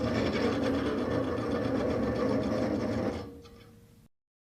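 Restored Delta Unisaw table saw running steadily with a loud, even mechanical whir for about three seconds, then winding down and fading out.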